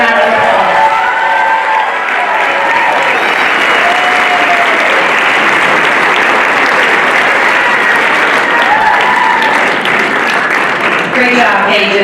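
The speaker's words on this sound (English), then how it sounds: "Let's give them another round of applause." Audience applause fills a hall at a winter carnival coronation in Saranac Lake, a dense, sustained wash of clapping with scattered cheers that stays loud and even throughout.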